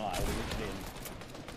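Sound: gunfire in a video game

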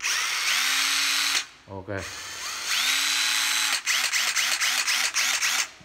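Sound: Hitachi cordless angle drill driver running

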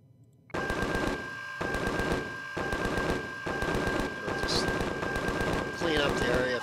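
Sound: automated defense turret firing at enemies, Empyrion video game

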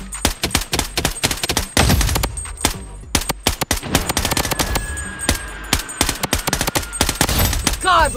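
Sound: gunfire from the video game Blood Strike

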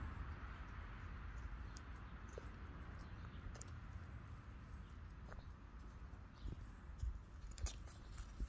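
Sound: fox eating watermelon, chewing

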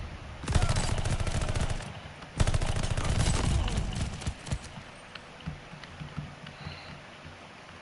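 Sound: gunfire from video game Call of Duty Vanguard

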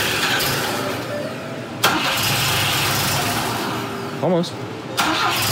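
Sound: Volvo Amazon B20 engine starting

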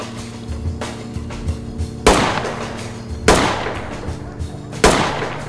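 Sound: gunshots in video game Ready or Not

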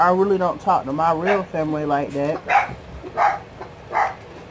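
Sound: dogs barking

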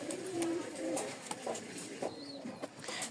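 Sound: pigeons cooing, Rajshahi Giribaz pigeon pairs

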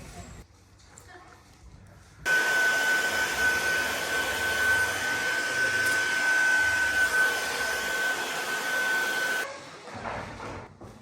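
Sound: hair dryer blowing

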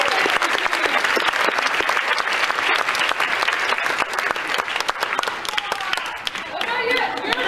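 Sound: audience applause at a concert

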